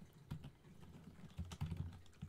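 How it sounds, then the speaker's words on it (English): Clicky taps on a loud computer keyboard come in quick irregular bursts, faint and somewhat muffled behind a microphone, with no talking. "this is a very loud keyboard"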